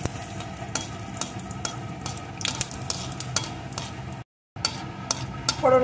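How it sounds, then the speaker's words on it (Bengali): A dried chilli and five-spice seeds fry in hot oil with a steady crackling sizzle, broken by light scraping and clinks of a stirring spoon against the pan, close and fairly loud, with a brief dropout near the end. "ফোড়নগুলো একটু ভেজে নেব।"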